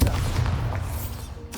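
A Bombarda explosion spell going off in the Hogwarts Legacy video game: a deep rumbling blast that fades quickly, followed by a sharp burst at the end, loud and close.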